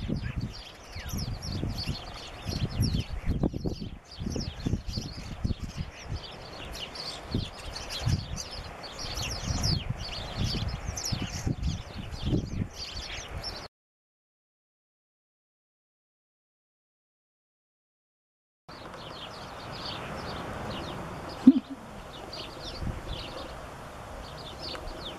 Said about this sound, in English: Lots of chattering starlings.